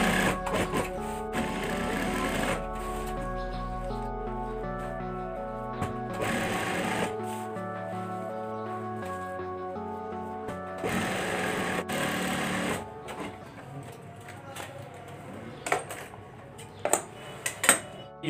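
A sewing machine runs steadily for about thirteen seconds, stitching cotton fabric for a double-ring curtain, then stops, followed by a few scattered clicks and handling knocks.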